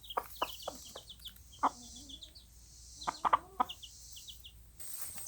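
Chickens cluck in short, irregular bursts on a homestead, close and clear over a quiet outdoor background, with a few higher chirps mixed in.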